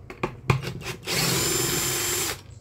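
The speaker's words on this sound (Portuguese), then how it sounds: "Eu estou usando a parafusadeira, lógico, né?" An electric screwdriver backs screws out of an Arno clothes iron, a few short clicks and trigger blips followed by a sustained whirring run of about a second, close and clear.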